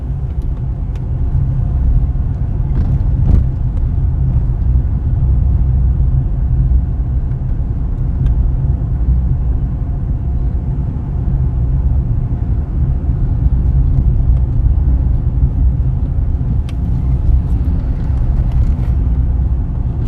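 A car drives a bumpy road near Manchester, Jamaica, giving a steady, loud low rumble from inside the vehicle with faint rattles and knocks over it.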